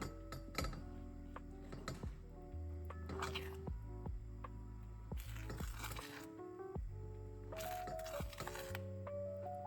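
Spices get mixed into a creamy mac and cheese sauce, soft wet squishing and a few light clinks in a quiet kitchen, with low humming tones running underneath.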